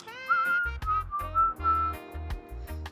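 A person whistles a bright, wavering tune, clear and close, over a rhythmic low thumping beat.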